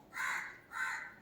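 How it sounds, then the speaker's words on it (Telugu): A crow gives two harsh caws spaced about half a second apart, fairly faint and somewhat distant, with no other sounds. "కాకి ఏదో పండు తెచ్చి చిలక పెట్టిందండి."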